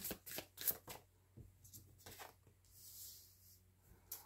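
Tarot cards shuffled and drawn for a millefeuille spread, close and quiet, giving soft riffles, slides and light taps in an uneven rhythm with no talk.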